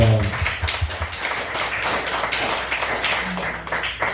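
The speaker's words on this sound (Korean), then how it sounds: "하나님께 영광의 박수 보내버리는 거예요." A church congregation claps together in praise to God: a steady, dense patter of many hands, moderately loud and continuous, with a brief voice near the start.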